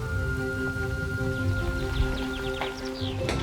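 Light rain falling steadily at the start of a cross-country walk, a soft continuous patter outdoors with a few faint high bird-like chirps and distant sounds near the end.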